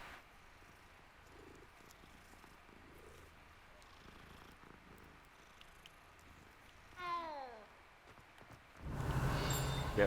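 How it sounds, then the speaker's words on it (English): A cat in the video game Hogwarts Legacy purrs softly as it is petted, a faint steady rumble under game ambience, with a brief meow-like call near the end and a louder noise burst closing out. "Oh, petting cat."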